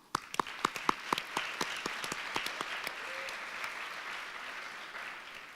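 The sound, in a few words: audience applause for competition finalists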